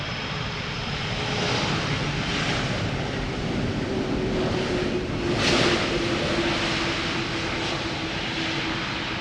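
A KLM jet airliner landing at Schiphol with no thrust reversers deployed gives a steady, broad roar with a faint tonal whine, swelling slightly midway, with no talk.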